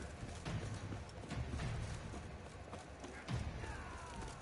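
Hooves of several horses clatter in a rapid, uneven rhythm in a video game scene, fairly quiet and muffled, with scattered thuds and faint ambient background but no voices.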